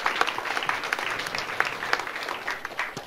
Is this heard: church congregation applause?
yes